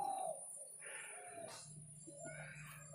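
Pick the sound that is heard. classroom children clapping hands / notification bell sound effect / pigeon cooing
pigeon cooing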